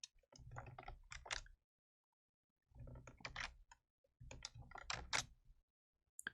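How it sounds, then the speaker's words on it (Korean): Computer keyboard keys clicked in three quick clusters separated by short silences, close and crisp, as Ctrl+Z undo shortcuts are pressed during photo retouching. "그래서 컨트롤 Z 키보드를 많이 써요."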